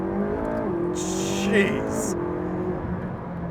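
A McLaren 675LT engine revs and surges from inside the car, with rising whines and a brief sharp burst, while a person speaks over the steady drone.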